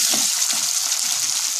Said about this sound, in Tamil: இந்த மாதிரி வறுபட்ட அப்புறம் வெங்காயம் போட்டுக்கலாம்.